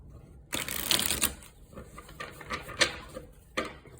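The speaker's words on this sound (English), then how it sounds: "I want to shuffle one more time" Crisp bursts of tarot cards being shuffled, a long riffle followed by several shorter flicks and snaps, close and fairly quiet, with no talking.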